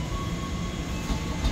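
Train at a busy Jakarta railway station, a steady low rumble with a faint high tonal whine, continuous and fairly close throughout the short moment with no talking.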